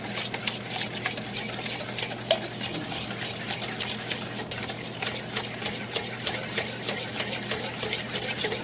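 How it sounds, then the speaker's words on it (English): Whisk beating eggs and sugar by hand in a bowl, a quiet, rapid, steady rattle of metal tines that goes on throughout. "continue to whisk the eggs and the sugar"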